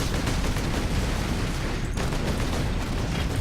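In the Warhammer 40,000 Space Marine video game, a grenade explosion and gunfire form a dense, continuous roar of battle noise, loud and unbroken, with a brief dip midway before the barrage resumes.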